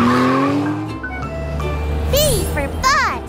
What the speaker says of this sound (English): Morphle, morph into a race car so we can find the letters super fast.